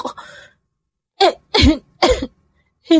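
Several short, harsh coughs in quick succession, close and distinct, separated by brief silences.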